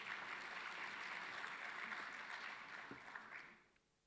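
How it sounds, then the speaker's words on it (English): An audience at an education sector conference session claps steadily in a large hall, a dense sustained wash of applause that slowly thins and fades out toward the end. "Let's give her a big hand of applause."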